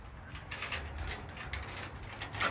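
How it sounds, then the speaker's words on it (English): A ratchet wrench loosens a shoulder bolt on a boat lift canopy frame, giving rapid close clicking through a couple of seconds of turning strokes outdoors. "So I'm just going to undo this shoulder bolt."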